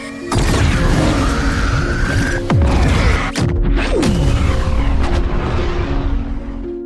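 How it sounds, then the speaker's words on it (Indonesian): Loud booming blasts and crashing impacts from a bomb exploding aboard a spaceship erupt in quick succession over a continuous roaring rumble, with debris-like rattles and sweeping descending whooshes. "bom yang dipasang Cora meledak"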